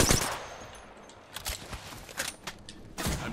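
Rapid bursts of automatic gunfire from the video game Apex Legends crackle in several short volleys, loud and close, separated by brief gaps.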